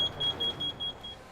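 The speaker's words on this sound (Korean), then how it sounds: "먼저 타고 있는 숯을 텐트 안에 넣고 문을 닫자 잠시 후 일산화탄소 경보음이 울립니다." Carbon monoxide alarm inside a closed tent holding burning charcoal, sounding a steady high-pitched electronic tone pulsed in a rapid repeating beep pattern, moderately loud, with no voices.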